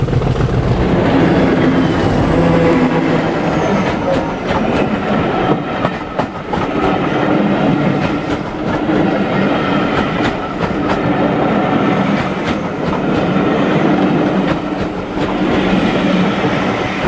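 A loud Class 50 diesel locomotive passes close by through Oldbury Cutting with a heavy engine drone and rhythmic wheel clatter on the rails, sustained throughout.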